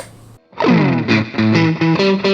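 A loud, heavily overdriven electric guitar with an Umeda Modern Alnico M-01 pickup, neck and middle pickups combined, plays a rising run of sustained notes after a brief quiet pause, the tone thick and buzzy.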